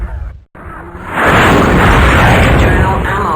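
A loud, sustained explosion roars out in the MechWarrior 2 mech combat game, an internal ammunition blast rising after a brief cutoff into a dense, rumbling burst that holds for several seconds.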